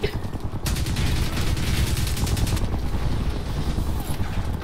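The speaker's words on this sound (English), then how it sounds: "this thing like sounds like a fucking machine gun" A rapid-firing gun in Crysis 3 lets off dense bursts of shots like a machine gun, loud and close, set against a steady clatter of battle noise.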